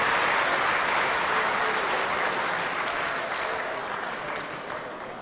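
Warm, steady applause fills a darts hall at an evening session of the BDO British Open, a dense crowd clapping close and loud before gradually easing off toward the end.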